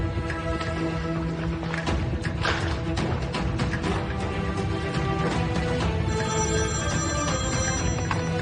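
A telephone rings repeatedly in an indoor scene from a Turkish drama, its steady bell-like tones continuing alone, fairly loud and unbroken, without any voices.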